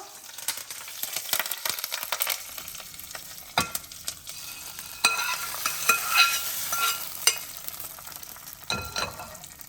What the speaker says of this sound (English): So in goes the tadka.